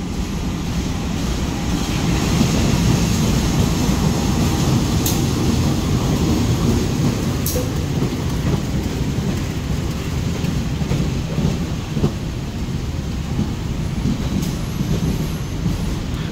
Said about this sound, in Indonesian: kereta pertama untuk video kali ini ada kereta api Menoreh Semarang Jakarta kelas ekonomi